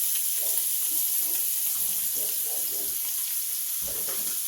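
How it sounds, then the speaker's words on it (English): Scallops sizzle steadily in a hot skillet, a continuous bright frying hiss with soft thumps as each one is flipped over, close and even throughout. "You flip them the order you put them in the skillet."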